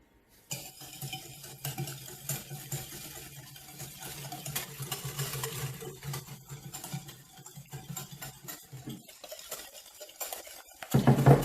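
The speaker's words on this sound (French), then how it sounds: "On mélange bien correctement jusqu'à ce que la préparation blanchisse." A utensil stirs caster sugar and vanilla sugar together in a bowl for tiramisu, giving a steady scraping and swishing close by, followed by a sharper clatter at the end.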